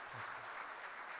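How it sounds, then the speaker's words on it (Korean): Church congregation applauding during a Sunday worship service to welcome a missionary, steady hand-clapping filling the room for a short, continuous burst with no voices over it. "여러분 박수로 한번 환영하겠습니다."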